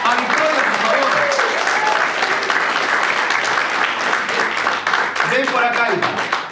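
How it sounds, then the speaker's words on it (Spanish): A church congregation applauds a pastor's young daughter, the clapping dense and sustained throughout, with cheers and voices mixed into the crowd noise. "quiero que tú le des un fuerte aplauso a Victoria"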